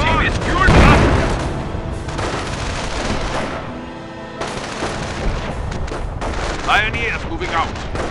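Battlefield gunfire and artillery booms hitting a base in the Company of Heroes game, with a heavy blast at the start followed by dense, continuous bursts of fire, loud and close, with in-game voices speaking over it.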